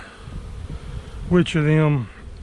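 Honeybees buzz around an open hive during autumn hive work, a low hum present throughout with one close bee droning loudly past for under a second, rising and falling in pitch.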